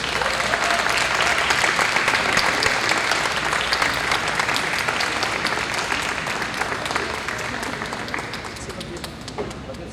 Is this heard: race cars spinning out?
no